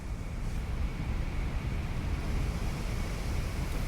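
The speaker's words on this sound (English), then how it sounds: "My gosh, it's really windy." Strong wind buffeting the microphone outdoors on a windy day in Japan, a continuous loud low rumble and rushing noise with no voices.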